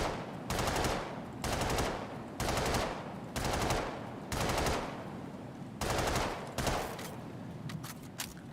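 A burst-fire ballistic gun firing in the video game Star Citizen, six or seven loud, evenly spaced rapid bursts with short gaps between them, each a tight stutter of shots, followed by fainter trailing clicks.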